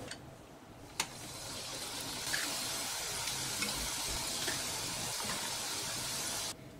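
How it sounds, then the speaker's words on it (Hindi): Masala rice murukku frying in hot oil, a steady close hiss and crackle of sizzling that runs unbroken, with a couple of faint clinks and no talking. "इसी तरह हम और मसाला मुरुक्कू फ्राई कर लेंगे।"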